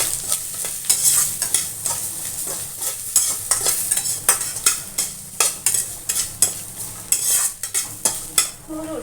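Spices with turmeric powder and coriander sautéing in a pan: a steady sizzle with brisk, rhythmic scrapes and clinks of a spoon stirring against the metal, close and clear, with no talking.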